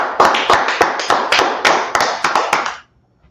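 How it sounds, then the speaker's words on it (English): A small group claps for a class in a quick, steady rhythm of about ten close, crisp claps that stop abruptly, leaving silence. "All right, clap it up for the class."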